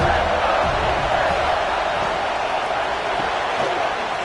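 A football stadium crowd roars at a Notre Dame at USC game, a loud, steady wash of massed voices with no breaks, sustained throughout.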